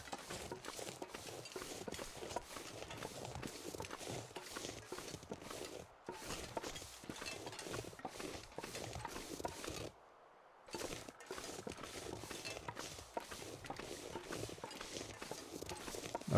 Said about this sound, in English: Sounded like hoofs.